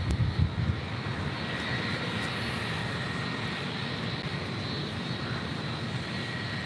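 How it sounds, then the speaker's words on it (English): Delta Airlines Boeing 737-800 twin-jet at LAX, engines giving a steady loud rushing whine close by, constant throughout with no talk. "That is Delta Airlines Flight 2551 heading to Portland at a 737-800"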